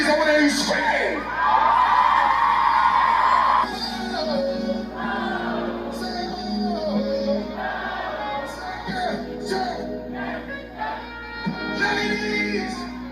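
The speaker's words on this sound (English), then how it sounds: "Ladies, I wanna hear you scream!" A concert crowd at an outdoor festival in England screams and whoops in a sustained roar, with cheers and shouts rising and falling throughout and a voice speaking over it.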